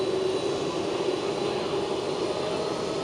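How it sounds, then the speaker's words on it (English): A Qatar Airways Boeing 777 arrives, its jet engines producing a steady, fairly loud roar with a sustained hum throughout. "Next one up for arrival here is a Qatari 777."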